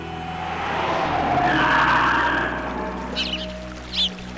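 Car swerving as a sound effect: a rising tire screech swells and fades over a low engine rumble, followed by two short squeaks.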